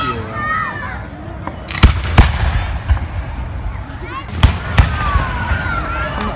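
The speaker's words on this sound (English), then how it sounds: "enjoy the fireworks" Fourth of July fireworks explode during a camping weekend, loud cracking bangs in irregular clusters while people talk nearby.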